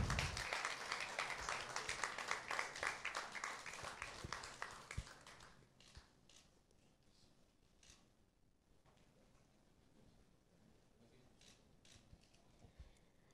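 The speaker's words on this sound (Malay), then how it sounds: "Sekali lagi tepukan bagi Encik Akmal." Applause at a heritage day ceremony, dense clapping for about five seconds that thins into a few scattered claps and quiet room noise, heard faintly at a distance.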